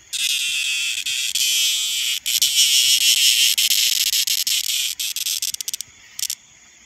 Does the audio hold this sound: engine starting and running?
no